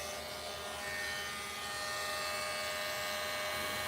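A power grinder whirs steadily up close as it takes down a slightly raised spot, a continuous buzzing drone with no pauses or voices.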